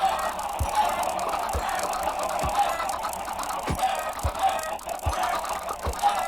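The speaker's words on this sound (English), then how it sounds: "Come to me, chickens. Such a ruckus." Minecraft chickens clucking in a dense, continuous ruckus, many birds overlapping at close range with sharp repeated clucks and no voices.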